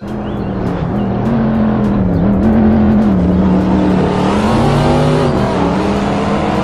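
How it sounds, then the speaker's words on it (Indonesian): A toy F1-style race car gives off a steady, loud engine-like drone that rises and falls gently in pitch, continuous and close for the whole stretch. "di sini ada mobil balap."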